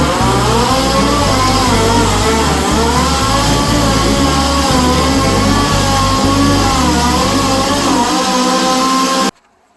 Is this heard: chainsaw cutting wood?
yes